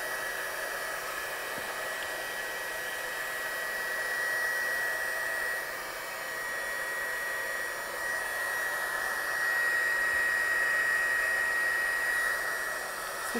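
A hair dryer blows steadily over wet watercolour on cardstock, a continuous close whooshing hum that swells slightly in loudness partway through, with no talking.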